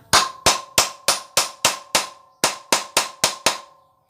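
Metal tool repeatedly struck to drive a screwdriver and loosen a screw on a motorcycle, in place of an impact driver: eleven sharp, ringing taps in a steady rhythm, close and loud, with one short pause midway.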